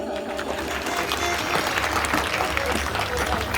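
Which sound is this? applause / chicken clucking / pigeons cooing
applause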